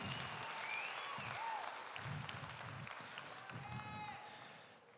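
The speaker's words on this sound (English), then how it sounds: "crowd, get as loud as you can, put it together, and congratulate these young people on an incredible set of sheep." Crowd applauding and cheering in a show arena after a youth sheep championship drive at the Kentucky State Fair, steady broadband clapping throughout with scattered shouts and whistles, tapering slightly at the end.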